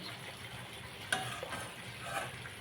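Chicken cooking in hot oil in a pan gives a quiet, steady sizzle with a few light clicks and stirring taps, close by and without talk.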